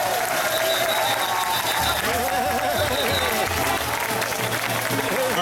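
A crowd at an outdoor march against emergency measures in Trois-Rivières applauds with sustained clapping and cheering, loud and close, with voices mixed in.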